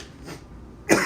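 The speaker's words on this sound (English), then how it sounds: "I'm coughing this whole episode" A single person coughs once, sharp and close, at the end of a stretch of quiet room noise, with no talking.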